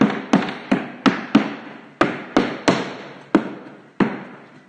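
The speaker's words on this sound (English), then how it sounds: "rubber hammer." A rubber hammer knocks on a rustic wooden tabletop for an entryway table, about ten separate sharp taps at an uneven pace, close and clear with no talking.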